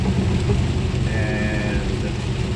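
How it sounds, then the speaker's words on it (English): Rain falls on a car at night, a dense steady patter and hiss that is loud and close throughout, with a brief bleat-like tone partway through. "it's obviously raining"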